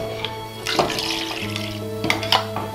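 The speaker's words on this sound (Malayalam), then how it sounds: "മിക്സി ഒന്ന് കഴുകിയതിന് ശേഷം ആ വെള്ളം നമുക്ക് ഒഴിക്കാം" Water from a rinsed mixer jar splashes and pours in short gushes into a mutton curry, close by, with a faint steady hum underneath.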